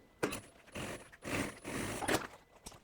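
A sewing machine topstitches a necessaire box in short mechanical bursts, its needle clattering in quick runs separated by brief pauses, close and fairly quiet.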